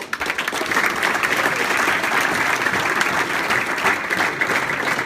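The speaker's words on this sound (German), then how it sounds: "Von daher mal großen Applaus für den Verein und für das ganze Konzept." Loud, sustained applause from the gathering at FC-Astoria Walldorf's 2014 club Christmas party, many hands clapping in a thick, continuous wash close by, with a faint murmur of voices underneath.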